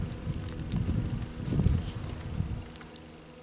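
Honeybees buzz at an opened hive in late winter, a steady close drone with a few louder swells, and no voices over it.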